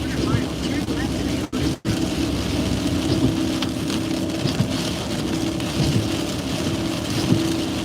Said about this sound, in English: We got some pretty good rain over here.